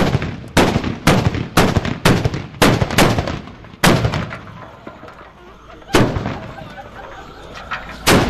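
A series of loud, booming carbide cannon blasts fired from milk churns on New Year's Eve in northeast Friesland, several in quick succession then more spaced out, each followed by a rolling echo outdoors.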